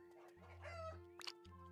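Game chickens from No Place Like Home clucking, with a short crowing call and a brief burst of chatter near the end, all over a constant droning background tone at low level.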